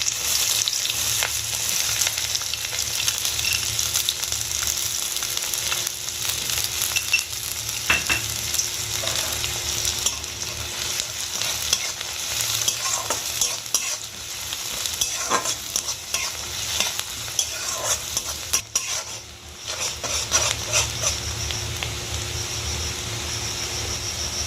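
Chopped onion fries in hot oil with whole cardamom, cinnamon and green chilli for a potato biryani. A steady, close sizzle continues throughout, with occasional scrapes and clinks of stirring and no talking.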